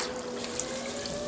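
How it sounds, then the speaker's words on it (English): Warm water runs steadily from a tap into a bucket to dissolve salt for pickling a deer hide, a continuous close hiss and splash with no talking. "Now I'm using warm water to help dissolve some of the salt."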